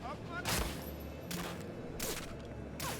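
Gunshots in Medal of Honor Frontline, MP40 or pistol fire in three sharp bursts spaced about a second apart, moderately close, with game ambience underneath.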